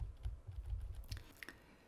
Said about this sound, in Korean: 조금씩 디테일하게 움직여야 되는 부분은 이렇게 키보드의 방향키를 이용해서 작업을 해주시면 됩니다